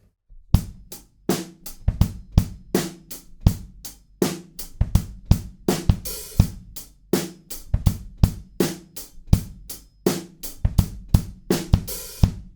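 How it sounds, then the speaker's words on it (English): A live drum kit plays a beat, steady kick and snare hits with hi-hats ticking straight eighth notes throughout, close and crisp, with occasional cymbal splashes. "the hi-hats now are playing 8th notes all the way through"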